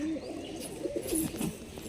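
A blue-patterned female pigeon of a fancy breed for sale, giving a few soft, close, low cooing calls over a faint background hiss.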